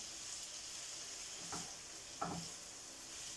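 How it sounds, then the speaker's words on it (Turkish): Pepper, tomato and onion sauté in a pan for a griddle-style kavurma, giving a faint, steady sizzle with two brief stirring scrapes partway through. "karıştıralım, soteleyelim arkadaşlar. Şöyle biber, domates, soğan erisin."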